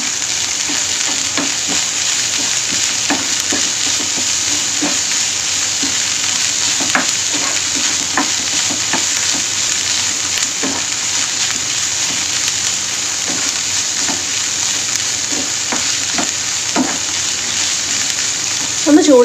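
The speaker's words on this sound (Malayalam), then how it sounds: "ബീഫ് ആഡ് ചെയ്തതിന് ശേഷം നന്നായിട്ടൊന്ന് ഇളക്കി കൊടുക്കാം." Beef pieces fry in a hot pan for stuffed Malabar chatti pathiri, a loud steady sizzle with repeated scraping and knocking as the meat is stirred, close and continuous throughout.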